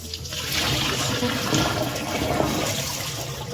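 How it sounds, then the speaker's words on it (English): Four cups of rice being washed in water for a vegetable stew, a steady continuous rush of running and swishing water close by, fairly loud throughout with no talk. "so I'm just going to wash the rice."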